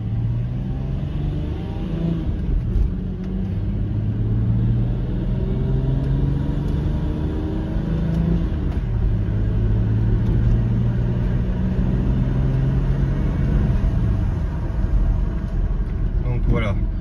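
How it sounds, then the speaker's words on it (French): An Audi car engine accelerating and revving past 3000 rpm on a closed road, a steady, loud mid-pitched drone with rising and falling engine tones throughout, close by and continuous. "on va faire une petite accélération"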